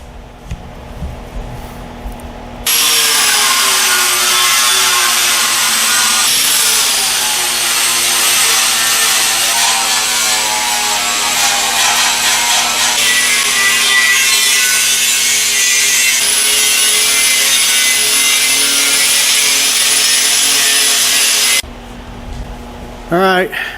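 An angle grinder works metal on a car trailer before welding, a loud harsh continuous grinding whine with shifting pitch that runs close for about twenty seconds, bracketed by brief quieter moments at the start and end.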